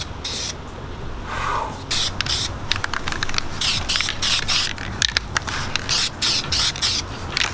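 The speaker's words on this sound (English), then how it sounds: "we're just gonna spray them down just so at least it looks pretty good down there when we put everything back together" Aerosol base coat sprayed onto Mazda Miata brake caliper brackets in short repeated bursts with brief pauses, close and fairly steady, with faint rattles between passes.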